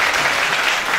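An audience at a school gymnasium event in Lankaran applauds in a dense, steady wash of many hands clapping together, loud and continuous throughout the second.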